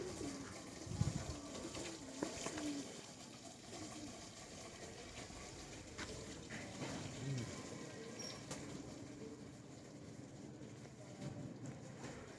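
Pigeons coo softly at a distance amid a hazy outdoor background, with low murmuring calls scattered through the clip.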